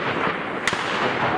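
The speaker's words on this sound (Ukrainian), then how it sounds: "Снайпер стріляє в цель, він не стріляє в автомат." A single sharp sniper gunshot cracks once, briefly, over a constant background of rushing noise, during the Maidan shootings in Kyiv, Ukraine.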